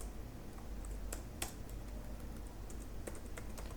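Computer keyboard typing while a Laravel blade view file is being created, a steady patter of close key clicks with a few sharper strikes, over a constant low room hum and no talking.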